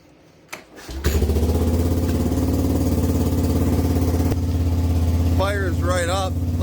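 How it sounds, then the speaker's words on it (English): A Yamaha 225DR dirt bike engine cranks briefly, then fires and settles into a steady, loud idle that runs close by. Voices talk over the running engine near the end. "So let's see if she'll start."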